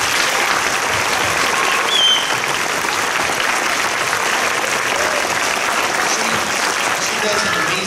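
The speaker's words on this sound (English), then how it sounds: "I'd like to have everybody please give a round of applause for Mrs. Weaver." Sustained applause from a sizeable crowd at a first grade choir concert, dense and even, holding at a steady loudness from start to finish.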